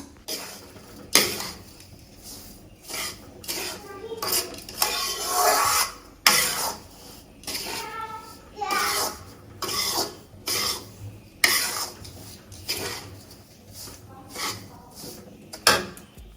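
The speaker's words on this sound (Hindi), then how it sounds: "किचन में मम्मी सूजी को भून रही हैं क्योंकि सूजी का बनेगा हलवा।" Semolina roasting in a home kitchen pan, stirred with repeated scraping strokes and occasional metallic clinks of utensil against the pan, close and fairly loud, with a faint voice at times.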